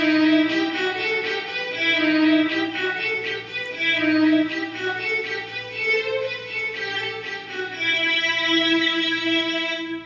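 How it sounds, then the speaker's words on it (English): LA Scoring Strings violin 1 sample played from a keyboard: sustained bowed violin section notes moving in a slow legato melody, smooth and continuous with a bright, rosiny tone, no talking. "violin 1 sample, and you play that"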